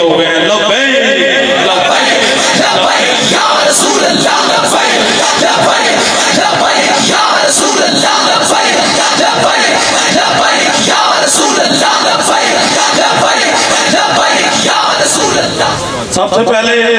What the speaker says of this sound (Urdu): لبیک یا رسول اللہ کے نعرے بلند کرنے کے لیے جمع ہوئے ہیں